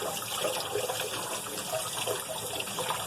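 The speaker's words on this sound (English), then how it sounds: "you just fan these as you run running water until you've opened it all up" Kitchen tap water runs steadily into a sink while leeks are rinsed and fanned open under the stream, a continuous close splashing gush with no talk.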